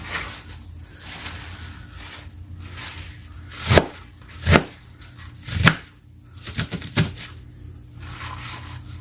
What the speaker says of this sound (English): Now I'm just chopping up this cabbage